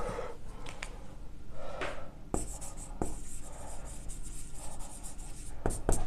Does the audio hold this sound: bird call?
no